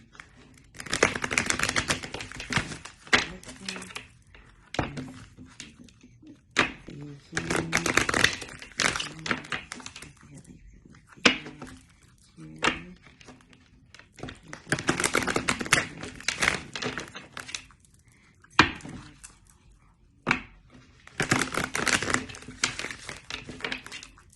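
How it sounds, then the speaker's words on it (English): Tarot cards are shuffled repeatedly in bursts of rapid riffling and tapping, separated by short quiet pauses, close up and with no talking. "One more shuffle."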